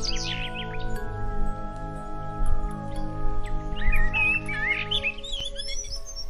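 Morning birdsong in a quiet setting: several birds chirp and trill in bright, overlapping calls over a low steady hum, with a faint background drone throughout.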